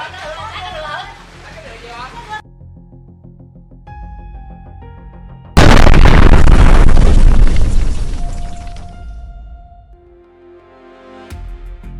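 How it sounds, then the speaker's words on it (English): An explosion sends up a towering mushroom-shaped smoke cloud, heard as a sudden heavy boom that roars for a few seconds and then slowly fades, with a voice speaking before it. "Hold on, was that an explosion?"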